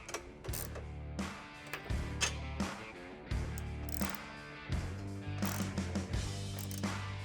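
A Matco flex head ratchet cranks down recessed cross member bolts on a Hurst/Olds with a 455, giving repeated bursts of sharp clicking strokes, close and crisp, with short pauses between each swing of the handle.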